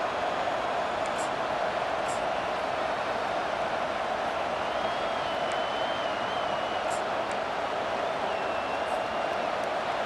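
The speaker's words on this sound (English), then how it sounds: "This crowd, full throat, splitting the eardrums" Crowd roar from a packed stadium in the video game College Football 25, Florida Gators fans in Gainesville, a steady, dense wall of cheering noise that holds at full volume with no talk over it.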